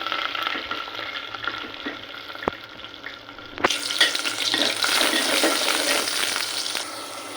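Garlic and onion frying in oil in a cooking pot, the start of a beef curry: a steady soft sizzle that suddenly swells into a louder, denser crackle partway through, with no voices.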